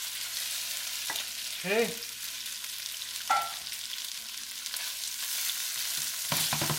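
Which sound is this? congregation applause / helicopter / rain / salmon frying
salmon frying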